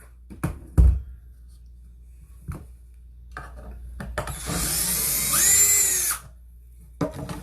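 A power drill pre-drills holes in the wooden riser of an Arcade1Up cabinet: short clicks and knocks, then one sustained whining burst of about two seconds that rises in pitch and stops, with no talk.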